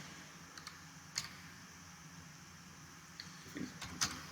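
Scattered keystrokes on a computer keyboard while a search query is entered, a few faint isolated clicks spread over quiet room tone.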